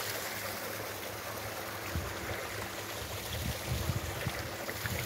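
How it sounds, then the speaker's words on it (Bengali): Water gushes steadily from an irrigation pump outlet into a field channel, a constant rushing splash without pause. "দেখেছো কিরকম জল পড়ছে।"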